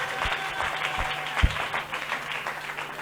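A church congregation claps and cheers throughout a deliverance and prophecy service, a dense steady wash of many hands with a few louder claps standing out and no clear voices on top.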